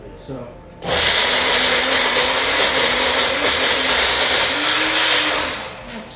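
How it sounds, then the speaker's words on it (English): A kitchen blender starts with a sudden loud whir and keeps grinding steadily for several seconds while chickpeas are blended into hummus. It fades slightly near the end, and a short spoken word comes just before it kicks in. "it doesn't really matter what blender you use as long as it can blend stuff finely"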